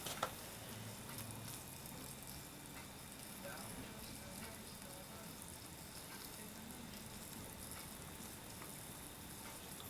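Sausages cook on an improvised survival stove, an oil candle or an aluminium beer-bottle stove, with a faint, steady crackling sizzle and one sharp click at the start. Flipping is not clearly audible.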